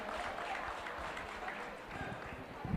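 Audience at an autism charity gala applauds a band, a sustained patter of many hands throughout, with a voice speaking over it.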